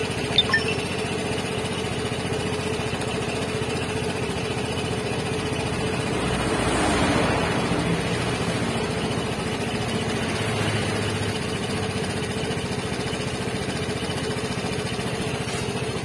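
Vespa Matic automatic scooter engine running steadily at high revs, a constant droning hum with a brief swell in the middle, close and alone with no talk.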